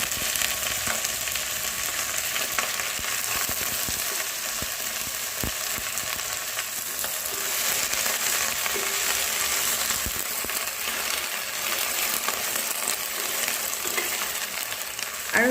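Chopped taro stems sizzling steadily in hot mustard oil with panch phoron, a loud, continuous frying hiss with occasional crackles and light stirring clatter, no voices.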